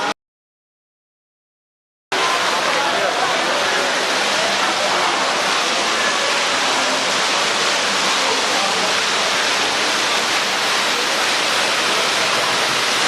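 A water fountain at an entrance in Tehran, a steady loud rushing splash that starts abruptly after a short silence and continues unbroken, close and even.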